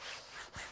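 A cloth rubs steadily back and forth over semi-dry paint on a painting, a soft, close, continuous swishing in two long strokes with nothing else heard.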